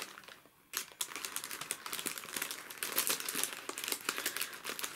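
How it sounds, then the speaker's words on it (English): Brown paper wrapping crinkles and crackles close up as a newly bought cactus or succulent is unwrapped, a steady run of dense rustling after a brief quieter start. "I do love the sound of brown paper crinkling, especially when it's coming off a plant that you just bought."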